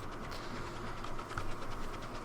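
Train running in Transport Fever 2: a steady, fairly faint rolling rumble with rhythmic rail clatter, continuous with no speech.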